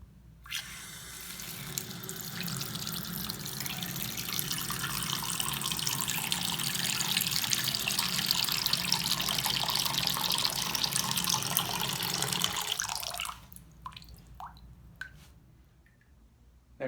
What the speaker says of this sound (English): you turned on the water in your sink and it wouldn't go down